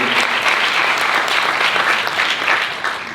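Sustained applause for panelists at the close of a Harvard alumni interview talk, thick and even, tapering slightly at the very end.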